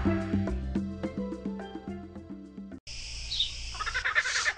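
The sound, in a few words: bird sound in video game Monkey Preschool Animals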